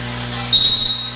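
A single short, shrill whistle blast cuts over a steady background hum, lasting about a third of a second.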